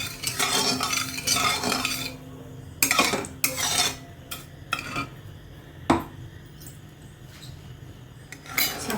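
A spoon stirs a sugar mixture for kaju katli in a pan, with close, repeated scraping and clinking against the metal, steady at first and then in separate strokes, with no voices.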